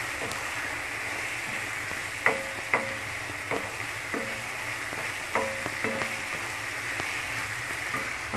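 Mutton being stirred with turmeric powder in a frying pan, a steady soft sizzle under a few sharp scraping clinks of a spoon against the pan, close and fairly quiet.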